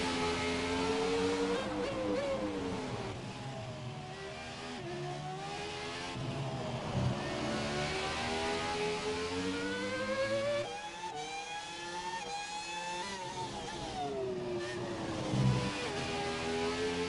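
Race car engines from the FlatOut racing video game, 2002 Ferrari cars at a Russian Grand Prix, drone continuously with rising and falling pitch as they rev and accelerate, loud and steady throughout with no speech.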